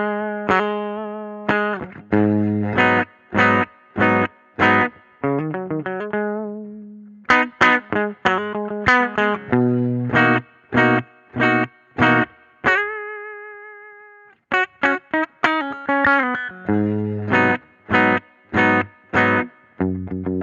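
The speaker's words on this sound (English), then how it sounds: "here's what the guitar sounds like without the effect" Electric guitar played dry with no effect: distorted-sounding chords and single notes, some short staccato stabs and some sustained, in a choppy rhythmic pattern with brief gaps.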